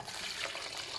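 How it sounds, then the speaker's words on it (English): Water pours into a pot over foil-wrapped moi moi bean parcels, a steady, close, splashing rush with no voices. "You see, you can add water directly on it."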